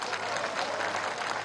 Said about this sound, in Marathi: या सर्व नेत्यांसाठी एकदा जोरदार टाळ्या वाजवा.